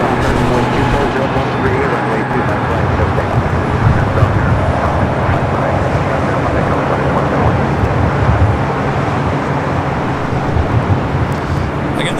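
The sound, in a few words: Boeing 787-10 Dreamliner arriving at LAX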